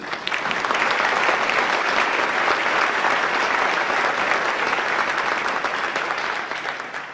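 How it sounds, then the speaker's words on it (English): Sustained, dense audience applause at a school district Hall of Fame induction ceremony, many hands clapping steadily and loudly for the full stretch before tapering slightly at the end. "Please give them another hand."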